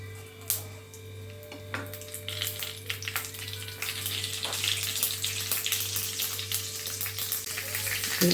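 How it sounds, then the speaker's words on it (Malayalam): Mustard seeds crackle and pop in hot coconut oil as a tempering for a moru curry with ash gourd, with scattered sharp pops over a steady sizzle and a low background hum, fairly quiet and close. "കടുക് പൊട്ടി"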